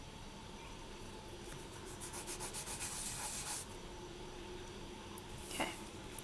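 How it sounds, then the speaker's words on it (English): Quiet, steady rasp of fine sanding on the front of a small polymer clay shell pendant, with soft repeated rubbing strokes and a brief sharper scrape near the end. "I'm just going to be sanding the front like so"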